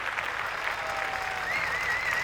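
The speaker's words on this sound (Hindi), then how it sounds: "आप अपने गुरुओं के लिए तालियां बजा रहे हैं" An audience at a school alumni meet applauds its teachers, with a steady wash of clapping from a large hall that holds evenly and a faint whistle rising near the end.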